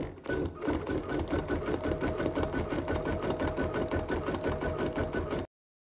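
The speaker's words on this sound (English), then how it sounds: "we're just gonna top stitch these again" A sewing machine top stitches appliqué borders at a steady, rapid rhythm for over five seconds, running loud and close before it stops abruptly near the end.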